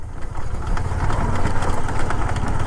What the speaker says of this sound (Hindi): और मेरा बाइक थोड़ा आवाज़ कर रहा है ज़्यादा ही,